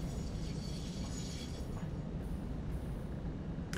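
A train rumbles along the rails in the factory-building game Satisfactory, a steady low rolling rumble with faint metallic hiss, continuous and fairly near with no talk over it.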